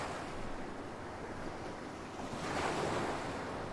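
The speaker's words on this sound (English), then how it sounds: "It's always nice just stopping to listen to the waves." Ocean waves in the video game Yakuza 3 roll and wash steadily, a continuous surf hiss with a swell that builds louder near the end, heard alone with no voices.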